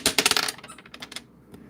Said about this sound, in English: There's my dice.